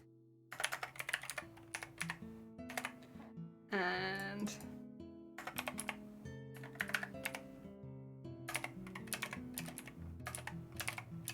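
Rapid clattering keystrokes on a computer keyboard come in close, dense bursts with short pauses, with a brief rising tonal sound in the middle and a low hum underneath.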